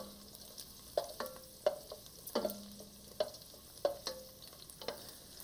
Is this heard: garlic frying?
yes